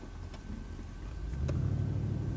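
A car pulls away under light throttle during a driving lesson, its low engine rumble steady and close, then swelling slightly louder as it gathers speed.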